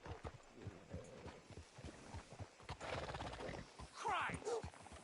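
Horse hooves clip-clop steadily at close range with a brief whinny near the end, under scattered talk and ambient noise, in the video game Red Dead Redemption 2.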